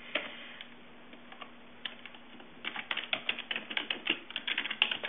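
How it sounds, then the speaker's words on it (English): Computer keyboard typing: a few scattered key clicks at first, then a steady run of quick, light clicks, faint and close, with no voices. "Type a personal message"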